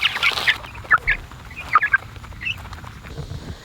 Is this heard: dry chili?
no